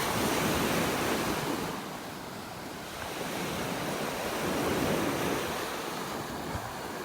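Ocean surf rolls onto a beach in North Naples, Florida in the early morning, a steady wash of breaking waves with wind buffeting the microphone, swelling and easing without any voices.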